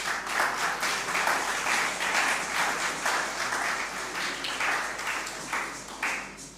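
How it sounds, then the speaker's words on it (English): Audience applause fills a lecture hall at an annual Marcus Garvey commemorative event, a steady dense wash of many hands clapping throughout, fairly loud and sustained without pause. "So just give me my clap now, please."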